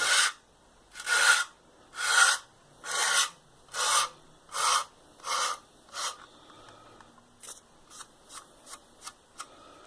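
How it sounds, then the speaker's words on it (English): Rhythmic rasping strokes of a sanding stick filing the edge of a Tiger tank model's zimmerit part, about nine slow even passes, then a quicker run of shorter, lighter strokes, close and clear. "take your sanding stick,"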